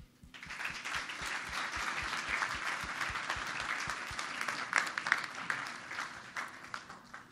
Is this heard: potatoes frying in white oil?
no